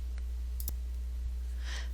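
A computer mouse double-clicks once in spreadsheet software, a quick, crisp pair of clicks over a steady low background hum, with a few fainter clicks around it.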